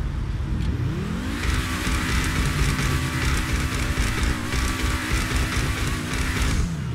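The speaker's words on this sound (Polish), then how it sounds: "możemy też tutaj posłuchać fajnego pierdzenia w tym samochodzie" A BMW i8 in GTA Online revving up and settling back down, its engine tone rising and falling, with popping and crackling from the exhaust over a loud, continuous drone.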